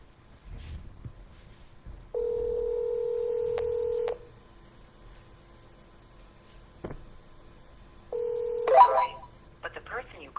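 Telephone dialing tones during a cold call for multi-family real estate listings: a steady two-second tone, then another brief tone with a quick burst of keypad beeps over faint room noise.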